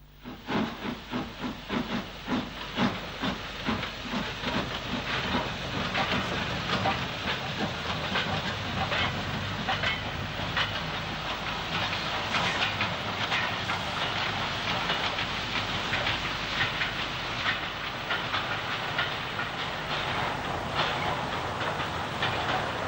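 A steam locomotive of an LNWR-derived 0-8-0 design, dating back to 1912, runs with close, loud steam hiss, rhythmic chuffing at first that blends into a steady roar and rattling wheels.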